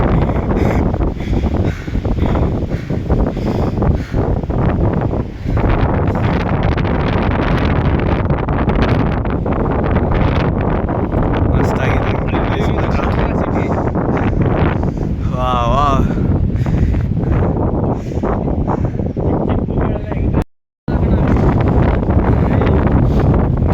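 Strong wind roars across the microphone during a motorcycle ride, a loud, constant buffeting rush that fills nearly the whole stretch with only a brief dropout near the end, while a rider's voice is faintly mixed in.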